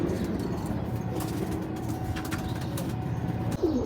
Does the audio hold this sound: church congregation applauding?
no